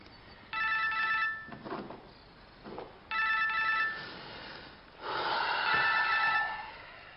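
A mobile phone rings in a drama scene, three separate bursts of an electronic ringtone, each lasting about a second or more, with breathing and small gasps in the quiet gaps between rings.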